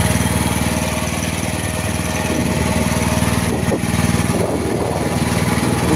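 A Kawasaki engine with starter and generator on a Tadano spider-type crane with new tracks runs at a steady idle, a loud, close, even mechanical drone with a rapid pulsing rhythm and no voices.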